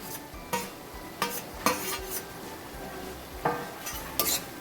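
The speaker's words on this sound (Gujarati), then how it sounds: "હવે આ શાકભાજી બધા જ સરસ રીતે મિક્સ થઈ જાય" Corn and vegetables, including finely chopped bell peppers, stirred in a pan for vegetable masala Maggi, with spoon scrapes and clinks coming every second or so over a low steady sizzle. Nobody speaks.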